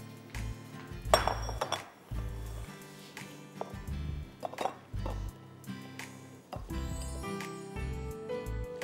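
A spoon clinks against a dish while a pulao filling is stirred and mixed in a kitchen: irregular, light metallic taps and scrapes, with brief pauses between strokes and no talking.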